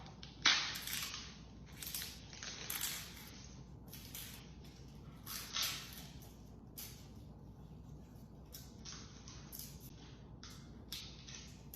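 Dry, papery garlic skin crinkles and crushes as it is peeled from the cloves, up close and quiet, with a few sharper crackling bursts early on and softer rustling after.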